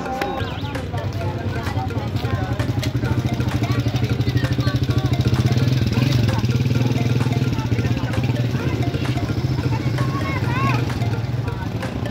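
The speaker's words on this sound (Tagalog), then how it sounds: "May motor!" A motorcycle engine runs steadily near a waterside spot, a continuous loud drone beneath several people talking and shouting throughout.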